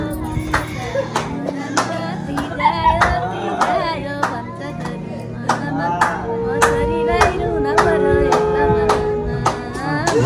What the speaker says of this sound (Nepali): ल गाउनु त सबैले ताली बजाउने है